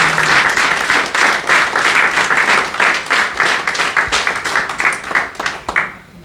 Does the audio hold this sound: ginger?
no